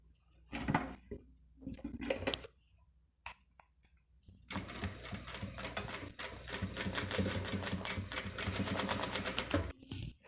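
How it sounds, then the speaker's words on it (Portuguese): A sewing machine stitches fabric for a classic beginner's zippered cosmetic bag, running in a steady rapid rattle for several seconds after some scattered handling clicks and rustles, close and moderately loud. "nós vamos costurar ele aqui"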